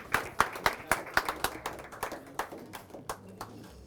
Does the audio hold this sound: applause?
yes